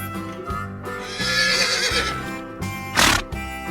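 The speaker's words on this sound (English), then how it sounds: "The horse neighs." A horse neighs in a long, loud whinny with rising and falling pitch, close and clear, alongside rhythmic clip-clop hoofbeats and a sharp snort-like burst near the end.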